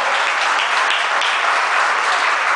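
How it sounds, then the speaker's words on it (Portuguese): Church congregation gives a sustained round of applause during a worship service, a dense, even clapping texture throughout with no speech over it. "Eu queria que você desse uma linda salva de palmas para Jesus e por amor."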